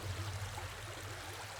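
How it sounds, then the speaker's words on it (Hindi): Flowing river water near a cave, a faint, steady rushing and gurgling wash that continues evenly throughout with no voices. "पानी की आवाज लगती है।"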